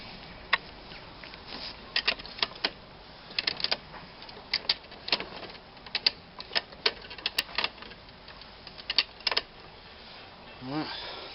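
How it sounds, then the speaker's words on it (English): The height adjuster on a John Deere JX90 lawn mower clicks repeatedly. Sharp mechanical ticks and ratcheting snaps come in uneven bursts, close and crisp over a quiet background. "Show you the height adjuster working first."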